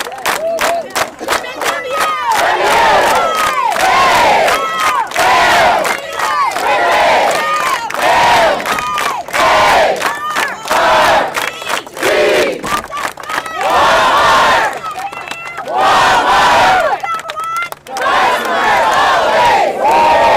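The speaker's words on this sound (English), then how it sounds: "Before we go, let's do a cheer, y'all." Crowd cheering and shouting together at a Walmart store reopening ceremony in Chesapeake, a loud, rhythmic group chant with repeated bursts of voices, close and energetic throughout.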